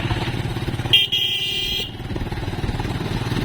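Motorcycles ride down Kongluk hill in Sajek, their engines droning close by, with a brief horn-like tone sounding for about a second partway through.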